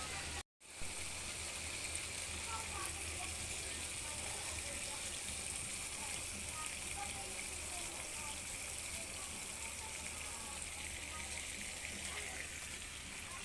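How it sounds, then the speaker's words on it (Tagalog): Coconut milk poured into a cooking pot makes a steady, soft liquid rush that runs unbroken for several seconds, close by, with no clear talk over it. "Ilalagay natin yung pang last na gata."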